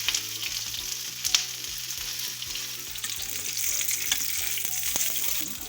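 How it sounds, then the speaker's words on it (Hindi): Beef chapli kababs fry over a slow flame, a steady close sizzle of hot oil running throughout with soft crackles and faint metallic clinks, no voices. "तो हम स्लो फ्लेम में फ्राई कर रहे हैं"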